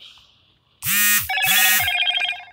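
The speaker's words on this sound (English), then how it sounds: "Sorry for that notification, guys." Phone notification chime, two quick bright electronic tones followed by a sustained melodic alert, clear and close against near silence with no talking.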